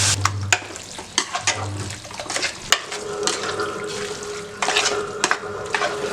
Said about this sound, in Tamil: குடல் வந்து இந்த அளவுக்கு நல்லாவே வதக்கிடணும்.